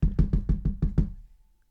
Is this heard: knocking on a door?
yes